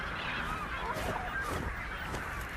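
Rock cormorants call from nesting sites on steep cliff walls in Tierra del Fuego, a chorus of hoarse, honking cries that overlaps continuously against a noisy outdoor background.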